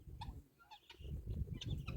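Free-ranging chickens and guinea fowl cluck and call in short bursts outdoors, a handful of quick, fairly faint squawks scattered over a low background murmur.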